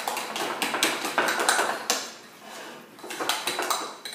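Ricotta is whipped by hand in a bowl with a utensil, a quick run of close clinks and taps against the bowl in uneven bursts, pausing briefly before resuming.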